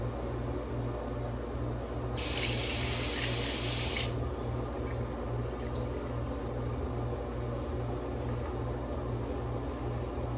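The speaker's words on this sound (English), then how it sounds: "Really good water pressure in here." Tap water runs with strong pressure into a sink in a bathroom, a steady close hiss and splash with a low pump-like hum underneath and a brief louder gush partway through.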